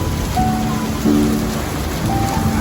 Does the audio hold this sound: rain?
yes